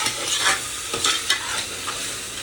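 Chopped tomatoes fry in a pan with a near sizzle, broken by several short bursts of stirring and scraping; no one speaks.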